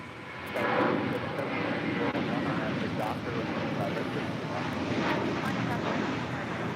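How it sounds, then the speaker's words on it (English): JetBlue Airways A321 jet departing LAX, a broad rumbling roar of engines holding steady at a distance with wind buffeting, a voice talking over it. "Next departure, JetBlue Airways flight 624 heading to JFK in an A321."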